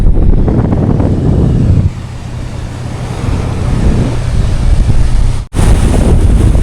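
Strong wind buffets the microphone over a low rumble of surf on a beach in the Andaman Islands. It is loud and continuous, briefly cutting out near the end before resuming, with no voices.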